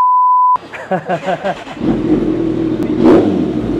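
A Kawasaki ZX14R motorcycle with a new exhaust blips its throttle in a few short bursts, then holds a deep, loud, rumbling rev up close, with one sharp surge near the end.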